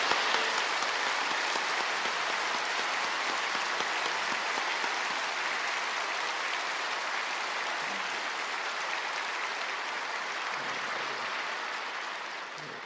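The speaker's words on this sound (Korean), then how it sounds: "우리 참석한 모든 분들에게 뜨거운 격려 박수 한번 보내겠습니다" A church congregation gives a long, dense round of applause, steady and loud from start to finish, fading slightly at the end, with no speech over it.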